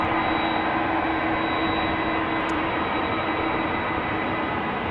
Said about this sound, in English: I'm also hearing an Airbus A330